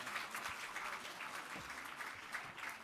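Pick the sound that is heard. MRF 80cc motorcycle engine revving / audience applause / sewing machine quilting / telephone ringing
audience applause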